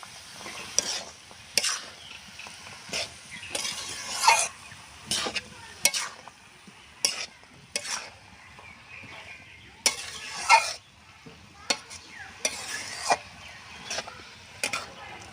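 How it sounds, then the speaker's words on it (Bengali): Shredded cabbage and chopped tomato are sautéed together in a pan, with bursts of spatula scraping and stirring over a low sizzle, repeated in an uneven rhythm and heard up close. "কুচানো টমা, সমস্ত কিছু দিয়ে একসাথে আমি কষতে থাকবো।"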